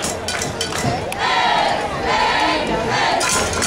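A high school football crowd roars and cheers in a sustained, loud wave, with the Stilwell student section shouting close by and voices rising and falling across the stands.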